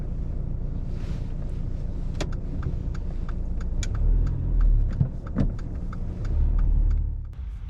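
A car moving off on a road in Ashford, London, with a steady engine hum and road rumble from inside the cabin, a few clicks, and the engine swelling as it pulls away.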